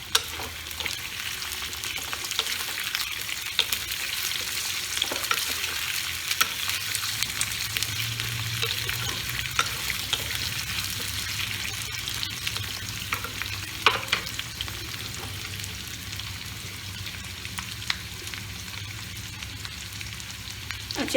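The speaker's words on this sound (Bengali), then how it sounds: "আচ্ছা, এটা ভাজা হোক" Turmeric, ginger paste and red chili powder fry in hot oil with a steady, dense sizzle and occasional stirring scrapes throughout, close and continuous, with no talking.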